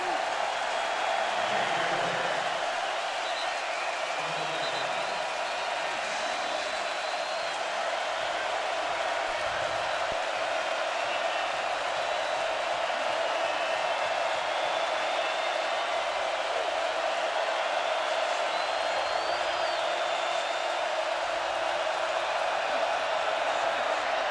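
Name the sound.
Rose Bowl stadium crowd roaring on third down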